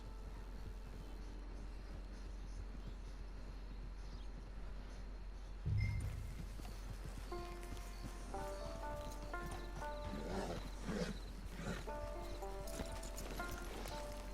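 Horse hooves clip-clop at a walking pace in the video game Red Dead Redemption 2, steady and fairly faint over ambient background, with a thump partway through and light tonal music entering later.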